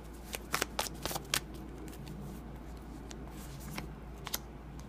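Tarot cards shuffled by hand in a quiet room, a run of crisp riffling bursts in the first second and a half, then scattered softer flicks and slides, close and alone.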